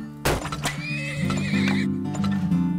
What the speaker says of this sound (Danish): Okay, vi skal have flere heste.